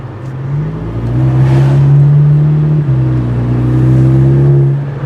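A warmed-up VW GTI engine accelerates with its aftermarket exhaust setup, a loud steady drone that rises in pitch and holds close to the mic for several seconds.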